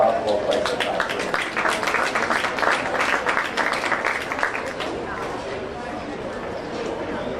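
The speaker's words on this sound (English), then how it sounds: "so let's give them a round of applause" Crowd applause at a county fair swine show, a continuous patter of clapping from spectators in a show barn that holds steady throughout, with an announcer's voice underneath.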